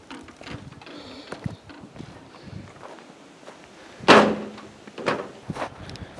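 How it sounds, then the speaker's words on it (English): An old solid door at a ruined border building is swung shut, giving one loud heavy thud that stands out among scattered footsteps and shuffling on rough ground. "Check out this solidly secure door here."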